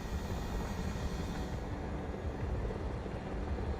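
A Chinook helicopter in the video game Broken Arrow flies with a steady, dense rotor and engine roar. The sound holds even and continuous throughout, with no voices.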